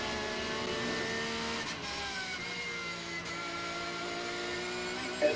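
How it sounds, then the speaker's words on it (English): A Porsche 911 race car from Manthey Racing runs a quick qualifying lap at a 24-hour race, its engine note holding a steady, sustained roar. "Kevin Estre on a quick lap at the moment in the 911 Manthey Racing Porsche"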